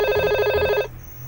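A VoIP desk phone rings with a bright electronic trill, two quick ring bursts close and clear before the tone cuts off into quiet room hiss.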